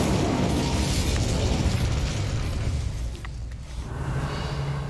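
An Incendio fire spell cast in Hogwarts Legacy: a loud, dense roaring burst of flame that rumbles steadily, dips briefly near the end, then swells again, with no voices.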